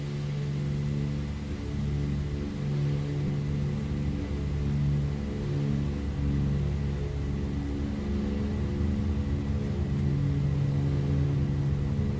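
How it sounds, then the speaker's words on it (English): Douglas DC-3 radial engines in Microsoft Flight Simulator 2020 drone in flight with a steady, throbbing low hum and layered harmonics, continuous and unchanging, with no voices. "Listen to that engine sound. It's absolutely incredible."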